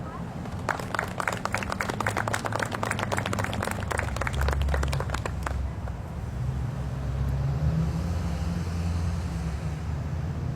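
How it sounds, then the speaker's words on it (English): A round of applause for a speaker at an outdoor pro-life prayer rally: scattered, fairly distant clapping for about five seconds over a low rumble of traffic or engine noise, which continues alone after the clapping stops. "Please give a round of applause to Mr. Dan Barnwell."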